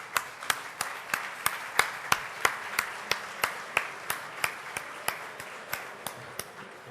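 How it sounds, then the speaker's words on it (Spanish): An audience in a packed lecture hall at an economics event gives a welcoming round of applause, heard as sharp, evenly spaced claps in a steady rhythm that carry on without a break. "es dar un aplauso de bienvenida a todos nosotros que colmamos esta aula"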